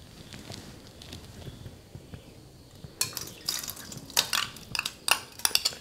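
Soaked wheat, lentils and fenugreek are poured along with their soaking water into a pressure cooker, giving a burst of splashing, trickling water and light clinking, close by and alone.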